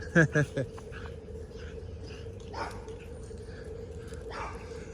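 A small dog on a Sebring, Florida neighborhood street barks in a quick burst of three yaps at the start, then gives a couple of fainter barks over low background hum.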